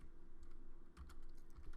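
Someone types a terminal command on a computer keyboard, a quiet series of quick key clicks with a short pause in the middle, heard alone.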